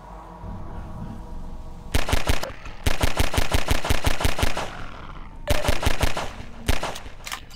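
Rapid automatic gunfire from Half-Life 2, aimed at headcrabs in Ravenholm, comes in several loud, close bursts of evenly spaced shots with short gaps between them.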